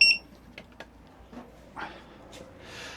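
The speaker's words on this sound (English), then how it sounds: "That's my CO2 alarm going, because the fumes from the exhaust has blown back in." A CO2 alarm in a workshop, set off by exhaust fumes blowing back inside, sounds one short, sharp electronic beep at the very start, followed by faint scattered clicks and soft room noise.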